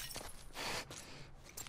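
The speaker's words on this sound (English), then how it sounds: "I'm surprised Joel doesn't call out my broken glass there." Glass shatters in The Last of Us Part II, a short, faint burst of breaking shards with a second smaller crack after it, quiet and without any talk.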